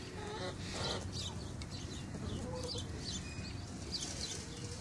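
Hens clucking near their coop on a cold winter day, with soft repeated clucks and occasional wing flaps over steady outdoor background noise.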